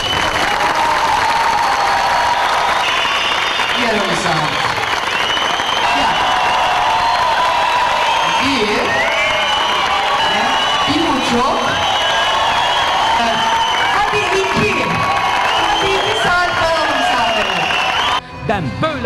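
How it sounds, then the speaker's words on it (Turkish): Audience at a Turkish pop concert applauding and cheering loudly and continuously, a dense roar of clapping with shouts, and a voice talking over it near the end. "Alkışlarınız kuvvetli olursa sahnede uzun kalacağım. Alkışlarınız zayıf olursa çabuk gideceğim."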